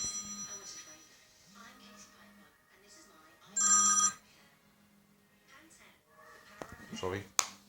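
A telephone rings in short bursts outdoors, one ring standing out loud and clear between quieter tones, with someone talking around it.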